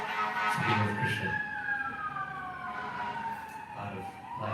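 Emergency vehicle siren wailing through New York streets, its rising and falling tone sweeping steadily at moderate distance over low city traffic rumble.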